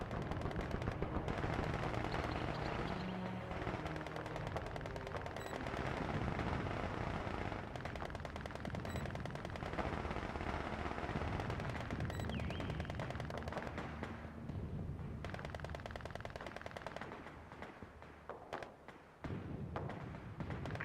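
Sustained video-game gunfire with rapid machine-gun bursts and thudding impacts, dense and loud throughout about twenty seconds, with a slight drop near the end.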